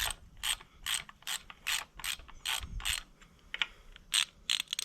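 A ratchet is worked on the belt tensioner of a high-compression Honda CRX engine during assembly. It gives a brisk run of close clicking strokes in an uneven rhythm, with no talk.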